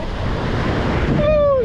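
Ocean surf on a beach during an afternoon walk, a steady broad wash of breaking waves up close with wind noise on the microphone, and a brief tonal whistle-like sound near the end.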